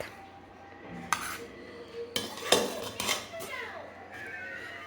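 A cooking pot and spoon being handled in a home kitchen, with several separate metallic clanks and clinks in short bursts over a quiet background, close by.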